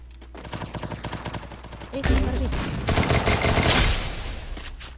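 Rapid bursts of video game gunfire crackle loudly, sustained automatic fire followed by heavier booming shots and echoing chaos.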